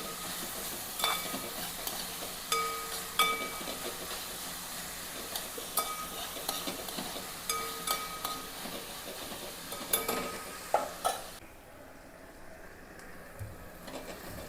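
Onion, tomato, garlic and ginger sauté in a pan with a steady sizzle, broken by repeated scraping and clinking of a spoon stirring, before the frying quiets toward the end.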